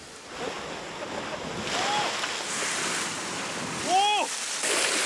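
Waves surge against coastal rocks at a rock-fishing spot, making a broad, roaring wash mixed with gusty wind noise. A few brief high whistling calls cut through near the middle and end.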